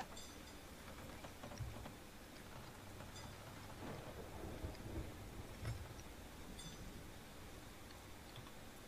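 Stormy weather in the pirate game Sea of Thieves: steady rain hissing over a low rumble of thunder, with occasional louder creaks and knocks rising from the continuous wash.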